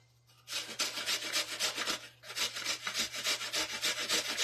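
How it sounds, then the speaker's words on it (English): A frozen onion is grated in quick back-and-forth scraping strokes, a rapid rasping rhythm close to the listener that pauses briefly midway and then resumes. "then you're going to grate your onion"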